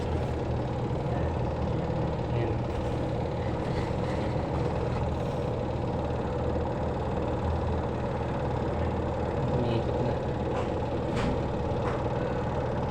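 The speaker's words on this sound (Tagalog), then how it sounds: "ingay niya pwedeng doon sa shafting ng mismo motor ng spin dryer" A steady mechanical motor hum from a noisy spin dryer motor runs continuously with a rough, noisy whir, unchanging throughout and fairly close, with no voices.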